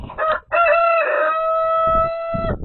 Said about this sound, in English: so we have our rooster here